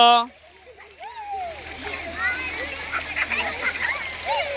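Children splash water around floating paper boats, a continuous lively splashing with excited kids' voices chattering and squealing over it.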